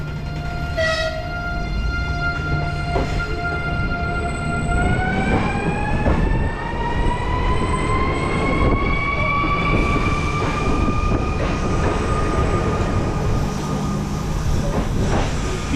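A train pulls out of a station in Latvia, its rising, sustained whine and steady rail rumble building loud and close over about fifteen seconds, with no talking.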